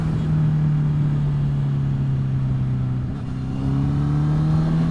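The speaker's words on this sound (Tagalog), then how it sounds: "Parang hindi siya katulad ng mga Kawasaki bikes na talaga matinis yung pagka inline 4 nila. This one medyo bassy yung tunog." A motorcycle engine with a deep, bassy tone, unlike a high-pitched inline-four, holds a loud, steady drone while riding. Its pitch dips slightly and then rises again.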